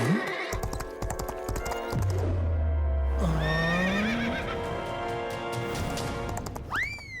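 A cartoon horse trots with clip-clop hooves and lets out a loud rising whinny, with other bright cartoon sound effects around it and a sudden crash-like hit near the start.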